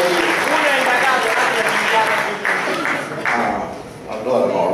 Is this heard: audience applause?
yes